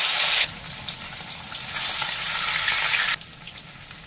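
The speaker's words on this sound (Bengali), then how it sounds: "কড়াইতে সর্ষের তেল দিয়েছি, তেল গরম হয়ে গেছে। এবার মাছগুলোর গায়ে নুন হলুদ মাখিয়ে দিয়ে দিচ্ছি।" Katla fish sizzling as it fries in hot mustard oil in a wok, a steady broad crackling hiss that swells louder in the middle and eases back, with no talking.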